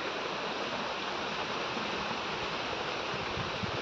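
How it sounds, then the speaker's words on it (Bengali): Heavy rain pours outside with water flowing, an even, unbroken rushing hiss that sounds fairly faint and distant throughout. "আর আজকে বাহিরে হচ্ছে প্রচুর পরিমাণে বৃষ্টি"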